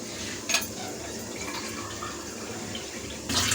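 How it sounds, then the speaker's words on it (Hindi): About three glasses of water are poured into a pot of browned mutton for kunna, making a steady, moderately quiet splashing stream with a couple of brief louder sloshes at the start and end. "अब मैं इसमें पानी डाल रही हूँ, करीबन मैं 3 गिलास इसमें पानी डालूँगी"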